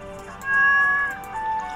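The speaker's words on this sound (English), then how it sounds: "Meow." A cat meows in the Stardew Valley video game, one clear drawn-out call followed by a shorter, softer one, close and alone over quiet game background.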